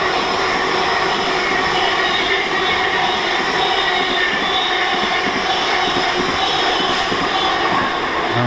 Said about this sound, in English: next up we've got an Azuma speeding through in the form of 800-111